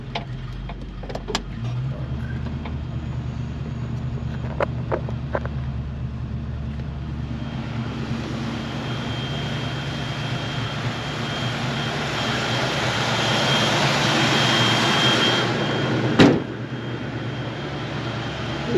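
A 1970 Ford Mustang idles as it warms up, a steady low engine drone that holds evenly and swells slightly near the end, with a brief knock late on.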